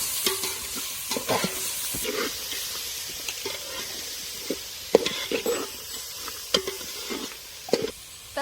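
Onion and tomato sautéing for khichdi, a soft steady sizzle with repeated scraping and knocking of a spoon stirring the pan, and no talking.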